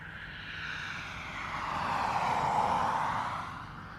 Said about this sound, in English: ATR landing on the other side